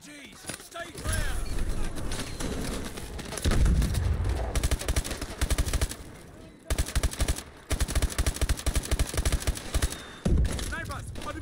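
Medium machine guns fire in a realistic near-future shooter set during a Lagos hostage situation. Loud, rapid bursts repeat close by with brief gaps between volleys, and voices are heard at times amid the gunfire.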